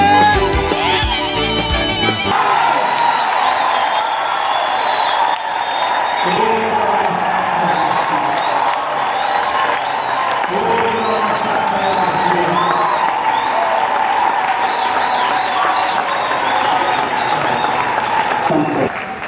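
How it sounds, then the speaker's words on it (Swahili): Church congregation ululating and cheering at a Sunday service, a dense, continuous crowd roar with high warbling trills layered throughout, after a brief loud burst at the start. "Vigelegele."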